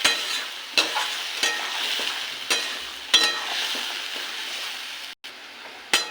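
Potatoes with salt, turmeric, chili, cumin and coriander powder stir-fry in a pan: a constant close sizzle broken by regular spatula scrapes and knocks roughly every second, with no talking.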